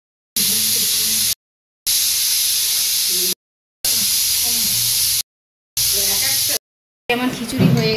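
A pressure cooker full of khichuri vents steam in four loud hissing bursts of about a second each, separated by brief silences. The hiss is close and harsh, and a voice speaks over the final moments.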